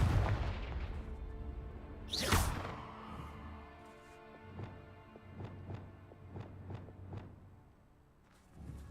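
A Confringo explosive spell bursts in a Harry Potter video game: one sharp, loud blast, followed by a train of softer, evenly spaced thumping impacts over a low, steady background hum.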